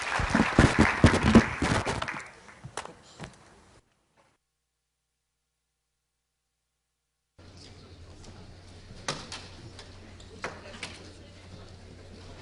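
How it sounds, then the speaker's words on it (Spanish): Applause for a policy panel in Peru fills the first two seconds with dense clapping, then thins to a few scattered claps and fades into silence before quiet room noise and occasional soft knocks return. "un aplauso para el panel que me acompaña"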